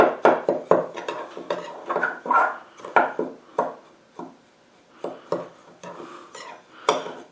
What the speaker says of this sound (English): Let's go ahead and stir this together.